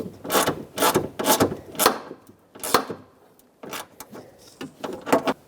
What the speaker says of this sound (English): whatever bolt lines up first, get that tightened up